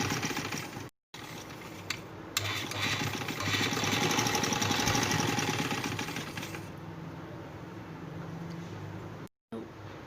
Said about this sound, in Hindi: ये इसके ऊपर सिलाई बिल्कुल इसके ऊपर राउंड में मैं सिलाई लगाऊंगी